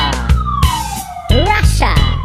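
A Russian police car siren wails in loud, sweeping tones that rise and fall, punctuated by brief breaks and sharp bursts, up close and dominant.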